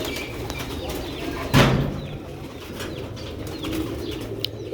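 Old Sialkoti pigeons coo in low, soft murmurs, with a short burst of wing flapping partway through over a steady background hum.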